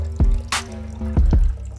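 Water dripping and dribbling from a freshly opened coconut, a few irregular close drips and short trickles with brief pauses between them.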